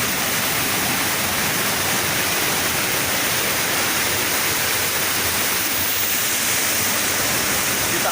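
Steady roaring rush of Pangyan Falls in Davao Oriental, near a hot spring pool, a broad constant wash of falling water filling the scene with no voices.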